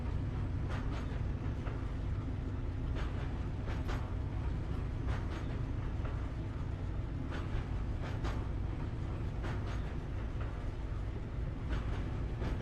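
A train rolls along with a steady, loud rumble broken by rhythmic metallic clacks. It stays constant throughout with no voices.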